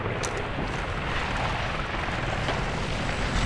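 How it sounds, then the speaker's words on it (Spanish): A helicopter in the video game Medal of Honor: Warfighter flies overhead with a loud, steady rotor and engine roar that fills the whole stretch without pause. "Oh, un helicóptero."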